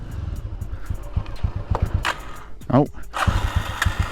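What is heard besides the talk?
1987 Honda GB250 Clubman motorcycle engine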